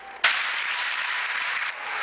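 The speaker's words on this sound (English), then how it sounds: "Please give them a round of applause." Crowd applause at a boys' varsity high school basketball game, a sudden burst of steady clapping that holds evenly for about a second and a half before easing slightly.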